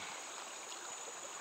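A small jungle stream flows steadily nearby, a constant close wash of running water with no voices over it.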